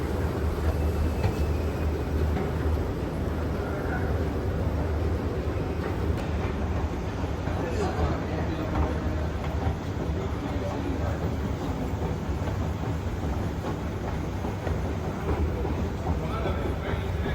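Metro train in a station in Qatar, a continuous rumbling roar with rhythmic rail clatter echoing through the station hall, while voices talk over it.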